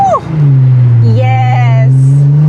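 A Nissan GTR with a lightweight aftermarket exhaust idles with a loud, deep, steady drone and then lifts into a brief rev, heard close up while a voice speaks over it.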